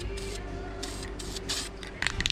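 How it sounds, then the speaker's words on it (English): A spray can with a wonky nozzle spraying paint onto a Camaro: several short hissing bursts separated by brief pauses, close and fairly loud, ending with a rattly sputter, no voices. "I'm sure it's gonna spray fine,"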